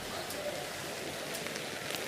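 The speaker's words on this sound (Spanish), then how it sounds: "aquí seguimos bajo una lluvia intensa en la plaza de la Chapa de Benetússer" Heavy rain pours steadily across a town square in Benetússer, a dense, continuous hiss of drops on hard surfaces, with faint distant voices underneath.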